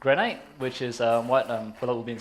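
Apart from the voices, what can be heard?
None of the usual background noises is heard.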